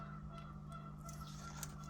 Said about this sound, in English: I wish that goose would just stop already. He is loud.